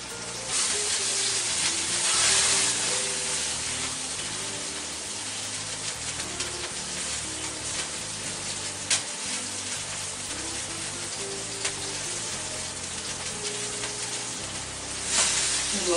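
Pork steaks searing in oil in a hot pan in Khon Kaen, a steady loud sizzle with crackling pops and occasional sharp spatters, no talk.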